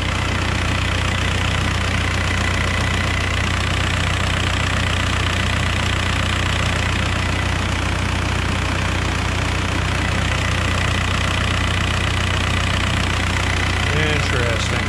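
A 2003 VW Beetle TDI diesel engine idles with the AC compressor engaged and the low-speed cooling fans running, giving a steady, loud, close rumble with a constant mechanical drone that holds throughout.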